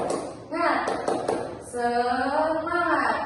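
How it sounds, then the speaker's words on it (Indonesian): Classroom of children doing a rhythmic spirit clap in an Indonesian lesson: a few sharp, evenly spaced claps near the start, followed by the class chanting in unison. "Tepuk semangat."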